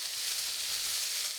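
Cumin and onion paste sizzling with koi fish in a frying pan: a continuous, bright, hissing sizzle at a fairly quiet, even level.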